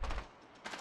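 Burst of gunfire in a first-person video game shooter match, a quick loud volley at the start that fades, then a second softer burst near the end.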